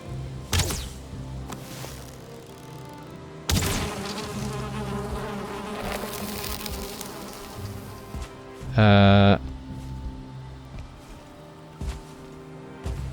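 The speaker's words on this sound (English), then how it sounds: "Some more bees in here. Let's grab those." Bees buzz steadily in the Valheim survival game, a droning hum running throughout the clip over the game's ambient sounds, with a few sharp thwacks and one short loud tonal burst near the end.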